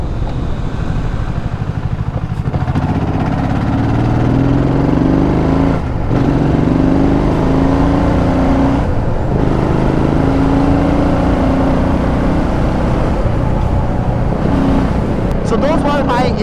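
A BSA Gold Star 650 motorcycle engine drones steadily through the ride, a loud continuous thrum with faint wind noise and a brief rise near the end, with a voice audible faintly at times.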